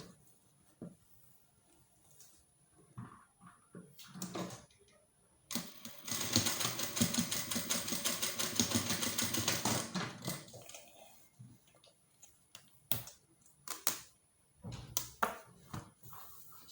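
A sewing machine stitches down corset fabric in a rapid, steady mechanical chatter for about four seconds, framed by sparse clicks and handling taps nearby.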